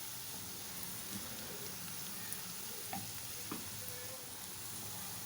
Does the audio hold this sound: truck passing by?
no